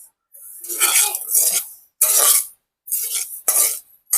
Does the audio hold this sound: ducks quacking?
no